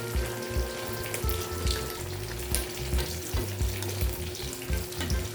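Green chili goes into a pan of squash, string beans and vegetables cooking in a Filipino ginataang dish, giving a steady close sizzle with stirring scrapes and a low rumbling hum underneath.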